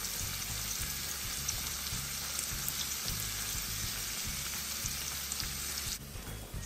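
Carrots sizzling in a hot pan while Samyang noodles are prepared, a steady bright frying hiss with faint rhythmic stirring or scraping knocks, continuous and fairly close, without speech.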